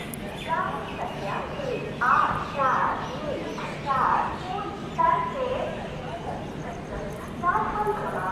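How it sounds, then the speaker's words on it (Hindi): Birds chirp in a busy chorus at Khurda Road railway station, Odisha, in the evening, their bright calls repeating steadily around a quiet platform with some background bustle. "चिड़िया चहचहा रही हैं,"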